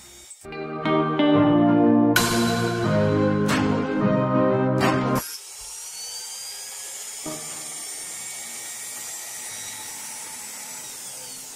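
A power tool levels a snow globe decoration house with a loud, high-pitched whining buzz that cuts in and out for about five seconds, then gives way to a quieter hiss and faint grinding.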